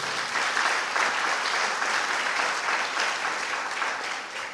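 A church congregation at a Portuguese-language sermon breaks into thick, steady applause, a broad wash of many hands clapping continuously and evenly for several seconds without talk.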